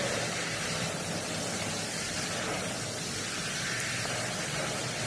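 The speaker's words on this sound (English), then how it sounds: "Let me let this water heat up" Shower water running while it heats up, a dense, steady hiss of spray that stays constant and fairly loud with no talking over it.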